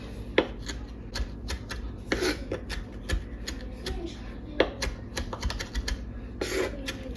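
A little tiny knife cuts rapidly against a board in quick, irregular clicking taps, close but fairly light, with a few slightly heavier knocks scattered through.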